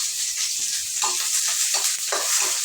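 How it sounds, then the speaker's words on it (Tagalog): Sliced onion and garlic sautéing in a hot pan while cooking ginataang hipon with vegetables, a steady close sizzle with occasional scraping stirs and no talk. "gisa lang natin yung sibuyas bawang"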